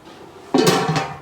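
A lid is set onto a pot of beef biryani with a close metallic clank and a short rattle as it settles, followed by a second lighter knock.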